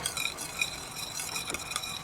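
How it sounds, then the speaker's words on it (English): Gravy being stirred in a pan on the stove: soft, quiet scraping and faint sizzling with a few light clinks, continuous and close. "Keep stirring it for a minute to make sure it's not going to do something weird."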